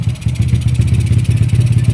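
A Honda Wave 100 motorcycle engine runs after carburetor tuning, a close, loud, steady idle with a fast, even pulsing chug.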